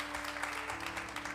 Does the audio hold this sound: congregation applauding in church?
yes